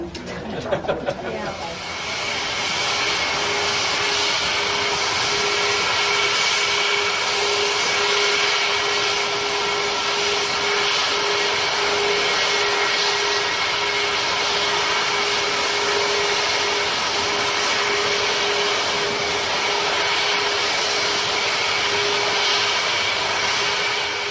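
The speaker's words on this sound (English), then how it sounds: "the unofficial flagship of the flagships, aircraft GBOAC, pushes back" Concorde airliner engines during pushback at a New York airport, a loud, steady high-pitched whine with a constant tonal hum that holds unchanged for over twenty seconds after a brief rise at the start.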